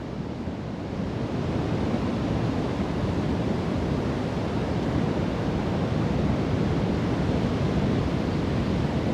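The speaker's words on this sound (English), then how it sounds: "keep the image of the waves crashing onto the shore in your head" A steady, dense roar of ocean surf breaking onto the shore fills the air continuously, loud and broadband with no distinct individual crashes.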